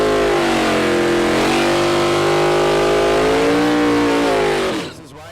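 A Hemi-powered Super Stock drag race car launches down the strip, its engine howling loudly and continuously as the pitch climbs through the gears before the sound drops away.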